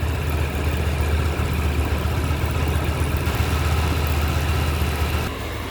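A Honda Hornet 2.0 motorcycle idles during servicing, a steady low engine rumble holding constant and fairly loud close by, dropping slightly near the end, with no speech.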